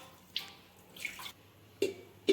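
Cooked leftover rice is rinsed in water and drained, giving a few short splashes and drips at close range, with sparse watery pours separated by quiet gaps.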